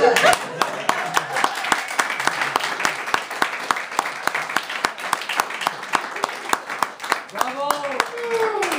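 Crowd applause with sharp individual claps standing out close by, continuing steadily, while a voice rises over it near the end.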